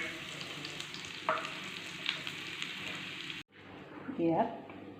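Panch phoron and a spoonful of asafoetida drop into hot oil in a pan, setting off a steady close sizzle and spatter with a brief stir partway through, quietly continuing as the oil settles.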